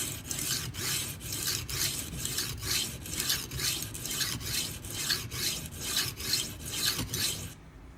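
A knife blade drawn repeatedly across a coarse sharpening stone, giving steady, rhythmic rasping strokes about twice per second, close and fairly loud, with no talking, before stopping abruptly at the end.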